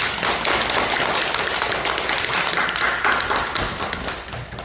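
An audience claps together in a steady, dense wash of applause that holds for several seconds before starting to thin out at the end.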